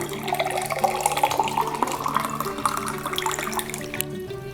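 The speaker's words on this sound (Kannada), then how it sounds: "ಸೊ ಈಗ ನಾವು ಅಷ್ಟು ನೀರನ್ನು ಹಾಕ್ಕೊಳ್ಳೋಣ" About a litre of water poured into a large vessel to make a neem-leaf herbal decoction, a continuous close rushing and gurgling stream that rises slightly in pitch as the vessel fills, then cuts off near the end.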